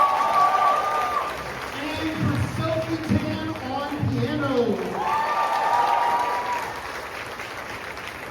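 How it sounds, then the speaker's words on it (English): Applause from the audience at a high school spring choir concert, running steady and moderately loud under an announcer's voice and bits of other speech. "One more round of applause for Jason Brady."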